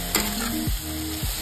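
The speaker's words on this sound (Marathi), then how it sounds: "आता हे 2 मिनिटं आपण हे परतून घ्यायचं आहे गॅसवरती" Tomatoes and spices sautéing in a pan on a gas stove, a brief steady sizzle with a couple of sliding scrape strokes from stirring, close and alone.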